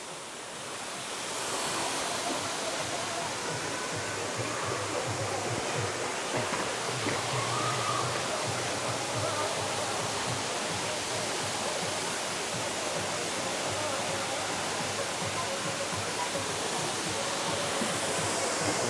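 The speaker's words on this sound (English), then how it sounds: "But a nice waterfall." Waterfall at Phnom Kulen in Cambodia, a steady, dense roar of falling water that stays loud and unbroken throughout with no pauses.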